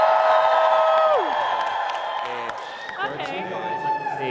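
A student crowd at the National Student Pride 2019 event cheers and whoops loudly together in a group volume test, a dense roar that slowly fades, with a voice speaking alongside.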